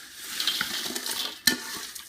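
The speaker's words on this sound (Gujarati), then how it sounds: "એની અંદર હું નાખી દઈશ મારા મમરા" Puffed rice tipped into a pan and stirred for Gujarati chevda, giving a quiet rustling scrape with a few light metallic clinks, one sharper knock midway.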